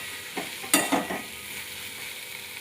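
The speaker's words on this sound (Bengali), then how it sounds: "আমি ভালোভাবে সবজিটা মশলার সাথে মিশিয়ে নেব।" Vegetables are stirred with spices (salt, turmeric, ground coriander and cumin) in a frying pan over a steady close sizzle. A few scraping strokes of the spoon are heard, and no one speaks.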